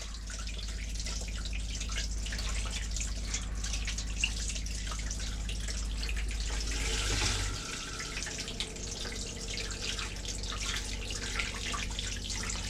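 Cold-to-hot wash basin tap running in a 2018 Coachman Wanderer 19 IB caravan, a steady close stream of water splashing into the basin with a low hum beneath that cuts out partway through.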